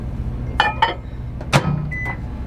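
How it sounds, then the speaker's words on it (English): A failing microwave oven hums steadily while a few sharp clanks and rattles break through, irregular mechanical noises close by. "My microwave makes awful noises."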